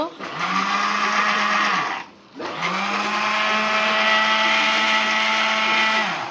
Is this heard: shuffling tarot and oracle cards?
no